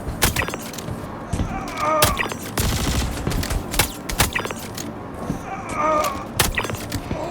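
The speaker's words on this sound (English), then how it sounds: "Starting off with the P8-AR, suppressed, with the low tier enemies, the ones who wear no armor, it's easily just one taps for this firearm." Suppressed Behring P8-AR rifle shots from Star Citizen crack in scattered single taps, with one quicker burst in the middle, mixed with gear clatter and game effects and no talk.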